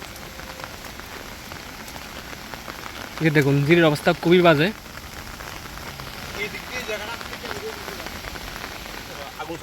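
Steady rain patters around a hillside trail near Bashbaria waterfall in Sitakunda, a constant wash of drops close by, with someone speaking briefly over it midway.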